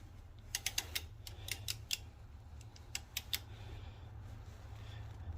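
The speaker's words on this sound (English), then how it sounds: "we're gonna put our breaker bar in here now" A breaker bar is fitted and worked on a car's crank bolt, producing a cluster of quick metallic clicks and ratcheting ticks, then a few scattered clicks, close but fairly quiet over a low hum.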